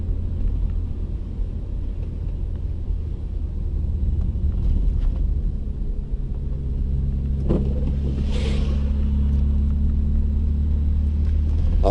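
Rear-wheel-drive BMW on summer tyres driving through snowy roads, a steady loud engine and road rumble heard from inside the car throughout, with no talking.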